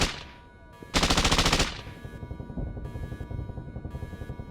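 Rapid automatic gunfire in a combat video game, a sustained loud burst of machine-gun fire followed by continuing quieter, rhythmic shooting.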